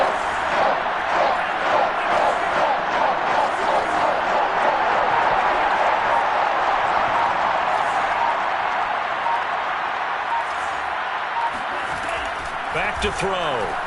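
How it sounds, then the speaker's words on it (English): Crowd in a football stadium roars loudly and continuously during a big third down against the Vikings, with a commentator talking over the noise. "The crowd getting into it as we come up on a big 3rd down."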